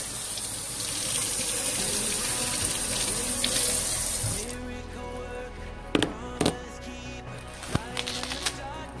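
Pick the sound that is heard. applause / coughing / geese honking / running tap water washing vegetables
running tap water washing vegetables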